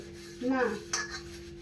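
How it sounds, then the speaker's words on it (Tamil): Dishes scrubbed and washed by hand at home, giving two short bursts of rubbing and clinking, close and fairly quiet, without talk. "நல்லா தேய்ச்சி கழுவு."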